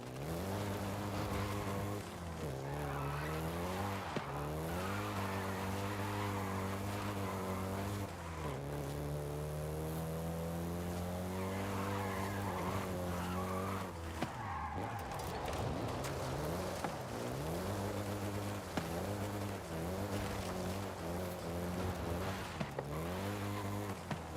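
A VW Golf GTI in the video game Forza Horizon 5 gives a steady, loud engine drone that rises and falls through repeated revs and gear changes, with tire noise under it and no talk.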